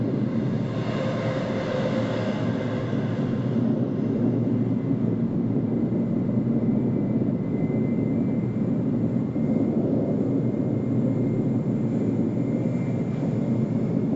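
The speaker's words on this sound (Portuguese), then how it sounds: "O avião está acelerando, ó." Jet airliner engines spooling up at Maho Beach, Saint Martin, a loud, steady broadband roar that holds for the whole stretch without letup.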